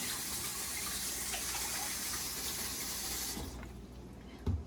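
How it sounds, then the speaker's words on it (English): A kitchen tap runs in a strong, steady gush as cabbage is washed under it, then cuts off abruptly, followed by quieter room sound and a soft clunk at the end. "washing the cabbage"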